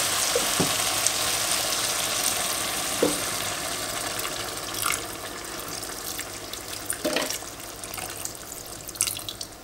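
Water poured carefully into a hot pan of buckwheat seasoned with pepper, a steady hissing sizzle with faint splashes and a few soft clinks, close and fairly loud throughout.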